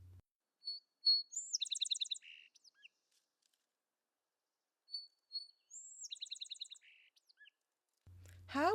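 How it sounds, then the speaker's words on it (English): A single bird sings two matching phrases of bright, high chirps and trills separated by silence, clear and fairly close against an otherwise quiet background. "Listen to this bird."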